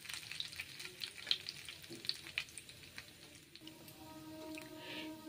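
Nigella seeds frying in hot mustard oil, a quiet, continuous sizzle dotted with small pops and crackles, faint and unaccompanied by speech.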